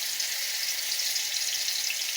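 Pointed gourd paste with garlic frying in hot mustard oil, giving a steady, even sizzle that holds at one level throughout with no voices.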